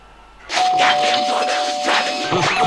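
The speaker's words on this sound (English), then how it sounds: "That goddamn doorbell is driving me nuts." A household doorbell chimes in a run of bright ringing tones lasting a couple of seconds, loud and close, with overlapping strikes and a faint background hum.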